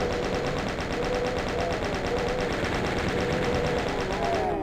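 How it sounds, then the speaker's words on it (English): Chaingunner enemies fire in Voxel Doom 2, a loud, continuous rapid stream of evenly spaced machine-gun shots running without a break and no speech. "And then chain gunners."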